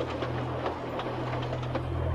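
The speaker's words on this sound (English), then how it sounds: "The engine was taking some trucks filled with scrap." Steam-era railway engine hauling trucks loaded with scrap produces a steady low rumble and rhythmic mechanical chugging, moderately loud and continuous, with no voices.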